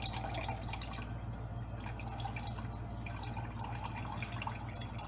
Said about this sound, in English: let's go ahead and pour the salmon fluid off the salmon here